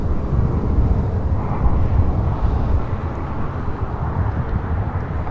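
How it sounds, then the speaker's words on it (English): A Spirit Airlines Airbus A319 takes off from LAX, its engines a loud, steady, close roar with broad rumbling that holds throughout. "This is Spirit Airlines 3103 taking off to Atlanta on an A319."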